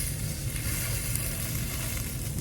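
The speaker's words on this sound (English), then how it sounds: "Let's see if this is getting nice and seared here." Pork loin sears in a hot pan with a steady, continuous sizzle, close and moderately loud, with no talking over it.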